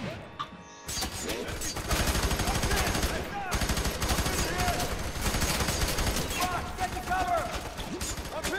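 Gunfire in the video game F.E.A.R. 3: loud, rapid automatic bursts and single shots layered with impacts and combat noise, continuous and close throughout.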